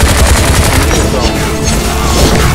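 Rapid gunfire from enemies in the sci-fi shooter Bright Memory, a loud dense barrage of overlapping shots with booms, sustained throughout without a break.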